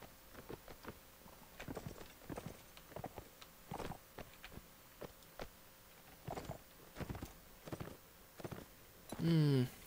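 Horse hooves from the video game Mount and Blade: Warband, a run of separate muffled clip-clop thuds at an irregular walking pace, moderately loud and close, with a brief louder tonal burst near the end.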